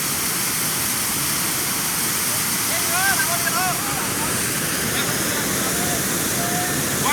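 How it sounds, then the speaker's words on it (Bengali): Sagar waterfall in Jharkhand, a loud, steady roar of falling water filling the air, with faint bird calls chirping briefly through it and no clear talk. "আমরা এসেছি ঝাড়খণ্ডের বিখ্যাত সাগর ঝর্ণা।"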